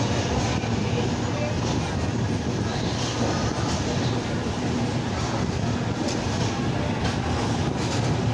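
A passenger train pulls out of Samastipur station with a steady rolling rumble and faint wheel clatter, heard from on board, with voices talking over the noise.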